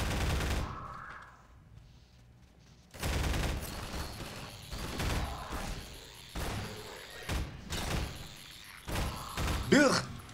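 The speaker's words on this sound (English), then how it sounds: "Grenades." Grenade blasts in Half-Life 2 hit hard in a run of booming bursts and thuds after a quiet stretch, loud and close, with brief clattering debris between them.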